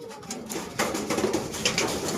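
A pet pigeon cooing close by, soft repeated throaty coos in a steady run, with light rustling in the background.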